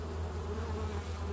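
Honey bees buzzing during a July hive inspection, a dense, steady low hum from many insects close by, continuous and fairly quiet, with no talking.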